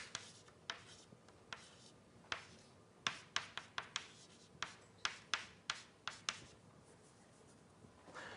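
Chalk or marker strokes on a lecture-hall board during a relativistic quantum mechanics lecture, a steady series of short taps and scrapes about every half second, fairly close and clear with no talk over them.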